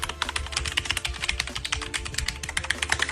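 Bright, clattering keystrokes on retro computer keyboards, rapid and continuous at close range, each tap crisp and loud, with no speech over it.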